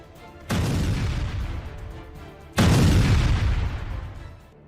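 Two heavy explosions from US military strikes on targets in Iran, each a sudden deep boom followed by a rumbling decay, the second slightly louder.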